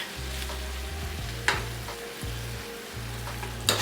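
Spoon stirring taco-seasoned filling in a hot pan, with a steady low sizzle and a few scraping strokes and clinks against the pan, close and moderate with no talk.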